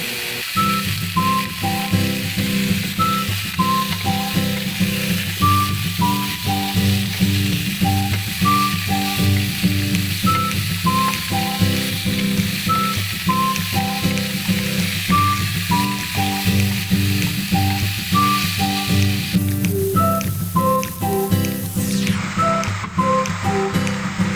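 Chicken feet sizzle in a pan with no oil, a loud, steady crackling fry close up with repeated rhythmic clicks and stirring scrapes throughout, no voices.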